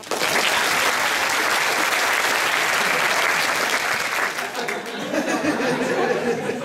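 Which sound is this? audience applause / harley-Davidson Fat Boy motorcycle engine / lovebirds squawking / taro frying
audience applause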